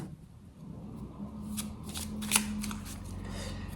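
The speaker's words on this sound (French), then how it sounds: "Donc on va voir, on va recouvrir les cartes." Tarot cards shuffled and laid out at a reading, a run of soft riffling slaps and card flicks over a steady low hum, with no voices.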